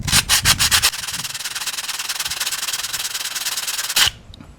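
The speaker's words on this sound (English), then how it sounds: "take your 220 grit sandpaper, just put it in there like so" Strokes of 220 grit sandpaper rubbing inside a Lee Enfield rifle stripper clip, starting with several quick separate scrapes and then settling into a steady, continuous close-up sanding rasp for a few seconds before stopping.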